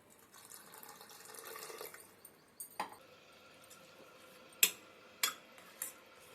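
A spoon stirs yogurt raita with cumin, salt and a splash of water in a bowl, making soft wet scraping followed by a few distinct, fairly quiet clinks against the bowl.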